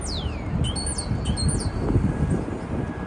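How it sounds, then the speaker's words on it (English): Real bird chirping on a downtown Manhattan street, several quick high tweets and a sliding call in the first half, heard over a steady city traffic rumble, with no talking. "Oh, that was an actual bird."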